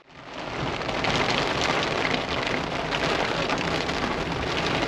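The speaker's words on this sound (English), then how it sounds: "It's raining a little bit." Steady rain patters and hisses densely and evenly on surfaces nearby, rising quickly to a constant wash with no voices.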